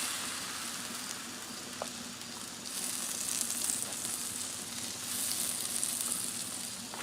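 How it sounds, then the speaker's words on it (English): Butter and a flour tortilla sizzle on a hot Blackstone griddle, a steady close frying hiss that swells midway, with a couple of faint taps and no voices. "So you got a flour tortilla, a little bit of butter, throw it on there."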